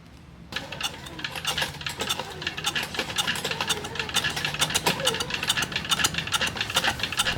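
A small gasoline motor starts after being tilted with gas spilling, then runs with a fast, steady, rattly mechanical chatter that continues near and moderately loud to the end.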